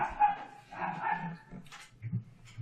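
Dogs barking and whimpering amid a chaotic scene in a tabletop role-playing campaign, with short yips and low woofs coming in bursts over roughly three seconds, mixed with other voices and noise.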